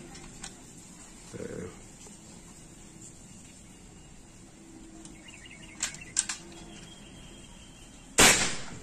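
A PCP air rifle, a 50 cm Lipat Army sidelever with a magazine and Monel barrel, fires one sharp, loud shot near the end, preceded by quiet handling clicks and a brief murmur in a mostly still outdoor setting.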